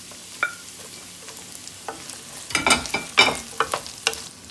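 Onion added to a pan of lightly fried garlic sizzles and crackles, with irregular bursts of stirring and spatula scrapes growing busier partway through, close and fairly loud.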